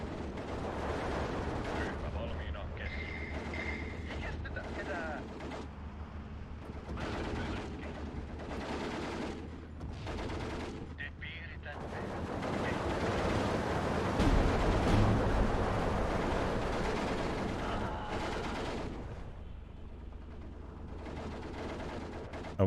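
Steel Division 2 battle din with artillery rumble, rifle shots and machine-gun bursts, a steady dense roar throughout that swells louder near the middle, with voices talking over it.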